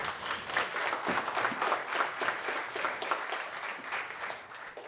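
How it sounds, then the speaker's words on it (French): An audience at a 2019 firefighters' recognition evening applauds firefighter Charles Méthode, with dense, steady clapping from a sizeable crowd filling the whole stretch before it tapers slightly at the end. "Une bonne main d'applaudissement pour Charles."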